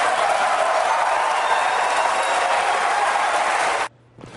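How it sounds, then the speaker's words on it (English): Applause from a Republican presidential primary debate audience in Florida, rising for Romney: dense, loud, steady clapping with no break for about four seconds, then cutting off abruptly into quiet room tone. "Big applause line for Romney there"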